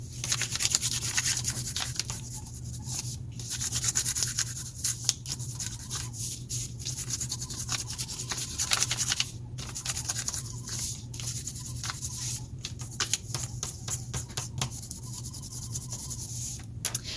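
A crayon rubs across gray paper during a children's art lesson, close and continuous scratchy strokes that come in irregular bursts with brief pauses, no talking heard.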